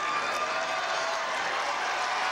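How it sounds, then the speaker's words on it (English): A gymnastics arena crowd at the 2004 NCAA Women's Super Six Challenge applauding a score, with steady, dense clapping and crowd noise held at a constant level throughout. "The crowd reacts."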